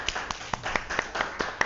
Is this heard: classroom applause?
yes